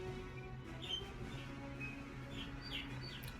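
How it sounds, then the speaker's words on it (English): Birds chirp faintly in the background behind an indoor StarCraft 2 commentary setup, a scattering of short high tweets over a steady low hum, distant and quiet, with no talking. "Apologize if there are bird noises in the background."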